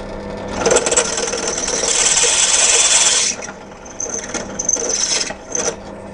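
A drill bores an 8 mm hole through metal, grinding loudly for about three seconds, then cutting back in with shorter, uneven bursts and brief catches as the bit binds.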